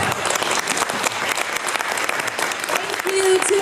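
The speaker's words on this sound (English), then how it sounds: "Can we give another round of applause?" An audience at a fan convention panel, AliCon 2019, breaks into steady applause: a dense, sustained wash of clapping from a crowd, loud and continuous throughout.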